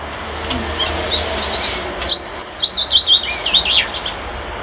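Recorded bird song plays alone as a string of bright, rapid, warbling phrases, clear and fairly close over faint background hiss.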